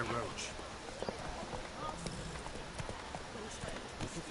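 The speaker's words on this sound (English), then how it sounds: "Whoa there, Roach" A horse gallops with clip-clop hooves in The Witcher 3: Wild Hunt, faint and steady under game ambience and a spoken voice.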